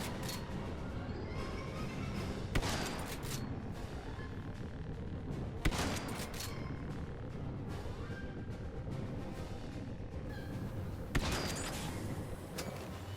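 Shard-firing weapon in the video game Star Wars Battlefront 2 lets off a few sharp blasts spaced several seconds apart over a steady, busy battle background.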